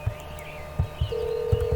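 A steady telephone tone from the Hello Neighbor video game begins partway through and holds, over low thumping footsteps or handling noises.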